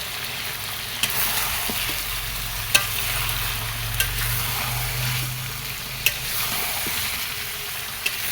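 Meat cooked down with spices in a pan, Bengali kosha style, being stirred: a constant hissing sizzle with a low bubbling rumble and a few sharp spoon clicks spaced a second or two apart, no talking.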